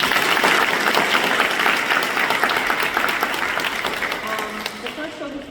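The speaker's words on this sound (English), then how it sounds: "If I could get a round of applause for that accomplishment." A city hall audience at a Hispanic community outreach event breaks into loud, dense applause. The clapping is strongest at the start and thins gradually toward the end.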